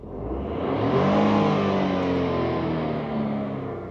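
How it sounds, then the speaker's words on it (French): Renault Austral car engine heard from behind the vehicle, a steady low hum swelling in a smooth rev and easing back down, continuous and moderately loud with no talk. "nous allons donc écouter le son du moteur de cette voiture"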